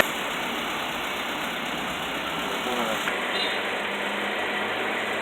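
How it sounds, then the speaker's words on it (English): A 2012 Honda Fit engine runs with the AC compressor engaged and belt turning, a loud, steady close idle hum with a broad constant whine throughout. "Compressor is on. Belt running."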